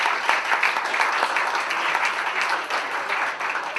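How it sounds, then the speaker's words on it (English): An audience at a candidates night in a Dayton venue, Wiley's, applauds warmly and continuously, a thick sustained patter of many hands clapping at close range. "So can we give them a round of applause also?"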